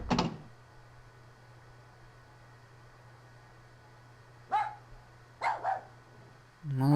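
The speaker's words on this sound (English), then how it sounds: "The dog's barking again." A dog barks in the video game Rule of Rose, a few sharp, somewhat distant barks spaced out over a steady low hum: one at the start, then two more in quick succession later.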